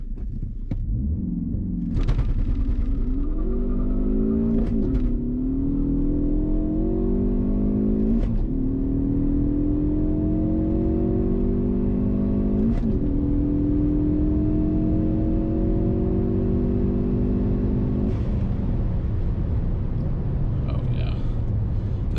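Ford Focus ST with a Cobb Accessport tune launching and revving hard, a loud engine climbing through rising pitch sweeps with brief shift breaks, close and steady throughout.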